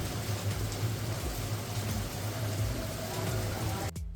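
Heavy rain falls just outside a window, a dense steady hiss and patter that stays close and continuous throughout, with a low rumble underneath.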